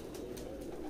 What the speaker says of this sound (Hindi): ये ऊपर कबूतर, तकरीबन इस रूम में एक 300 से ज़्यादा कबूतर होंगे